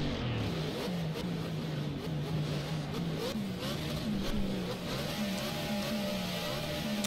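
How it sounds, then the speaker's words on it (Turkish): Car engine in the Project Cars racing game revving and held at steady throttle, a continuous loud drone with small pitch swells, alone with no talk. "Biraz ara gazı veriyorum"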